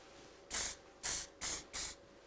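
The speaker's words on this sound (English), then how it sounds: "I'm going to use my Tresemme Salon Finish hairspray. So just spraying that on there." Tresemme Salon Finish hairspray sprayed onto long curled hair in four short, evenly spaced bursts of close, bright hissing with quiet pauses between.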